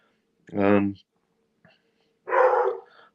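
A dog barks twice indoors, a loud, full-voiced woof followed after a pause by a rougher, noisier bark, with near silence in between.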